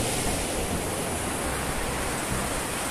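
Sea water surging steadily up a beach at Rayong, washing in over a shell lying on the sand; a continuous loud wash of surf noise with no pauses and no voices.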